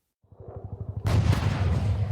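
Rapid, regular low thumps of gunfire building for about a second, then a sudden loud, sustained barrage of heavy firing and rumbling noise.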